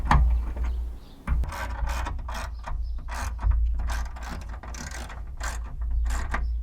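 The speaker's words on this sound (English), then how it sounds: "tighten up the two 10mm bolts" A hand ratchet clicks steadily, tightening two 10mm bolts on an awning mount fixed to the outer rail of a Pioneer Platform roof rack on a Jeep Wrangler JKU, in close, repeated rapid bursts with brief pauses.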